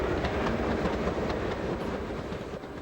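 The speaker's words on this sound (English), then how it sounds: "the unlikely spectacle of a high-speed train slowly snaking its way along the winding Weardale line" High-speed train running along the winding rural Weardale railway line, a steady rumbling roll with faint rhythmic wheel clatter, fairly close and continuous throughout without any voices.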